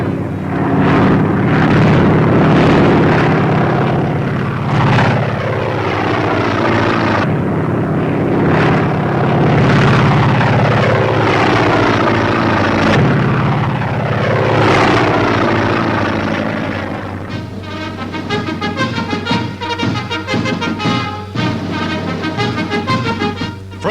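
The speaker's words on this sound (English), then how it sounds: "From the air, Navy fighters dive, simulating an actual attack, as gunners fight them off." Navy fighter planes dive in a simulated attack on fast motor torpedo boats off the Panama Canal, their engines roaring loud and close in repeated rising and falling swoops, followed by a burst of rapid gunfire-like clatter.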